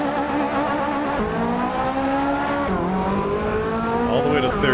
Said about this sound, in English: Let's dump the clutch and see what happens.